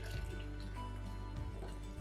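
Continuous gurgling pour of 1,800 milliliters of hot water into a pot of peach, lychee, ginger, lemongrass and coconut mead with yeast, steady and close.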